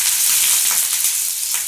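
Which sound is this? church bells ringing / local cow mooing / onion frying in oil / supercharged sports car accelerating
onion frying in oil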